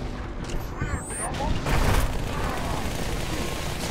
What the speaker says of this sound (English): I can just toss a nade right here